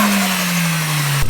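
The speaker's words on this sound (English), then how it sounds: "So we're gonna let the car warm up" An Audi A3 1.8T engine running close by while the car warms up after a boost fix, a loud steady hum with a slight pitch drop that cuts off abruptly near the end.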